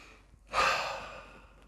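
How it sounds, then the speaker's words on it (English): A single deep breath, a long, airy exhale that swells quickly and then fades over about a second, heard close and alone in a quiet setting. "take a nice deep breath"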